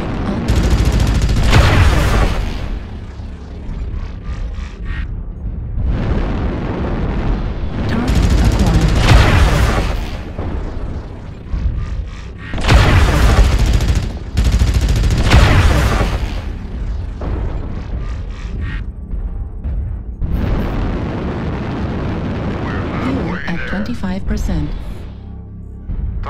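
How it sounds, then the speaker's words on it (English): Artillery strikes in MechWarrior Online, with repeated heavy explosions and booming bursts arriving in several loud waves, interleaved with weapon fire and rumbling, mixed with voices over team chatter. "Artillery strike on."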